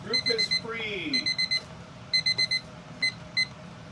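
A kitchen timer alarm goes off in repeated bursts of rapid high beeps, four or five beeps per burst with short pauses between, while a person talks briefly at the start.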